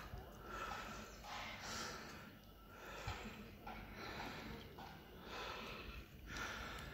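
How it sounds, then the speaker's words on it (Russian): Heavy, ragged breathing from a man who has just cycled up a steep uphill road in Turkey, a run of close snorts, gasps and sniffs in an uneven rhythm with no talk. "Дышу тяжело даже."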